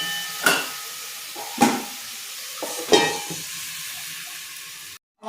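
Potatoes with salt and turmeric fry in a pan, a steady close sizzle punctuated by three sharp stirring scrapes, then a sudden cutoff near the end.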